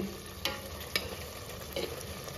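Prawns frying in a spicy masala for a rustic Maharashtrian kolambi curry, with a steady sizzle and three sharp scrapes of a spoon stirring the pan at regular intervals.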